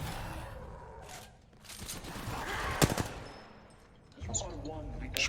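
Gunfire in the video game Apex Legends comes in bursts of sharp shots, one loud crack standing out among quicker volleys, while players talk over the action.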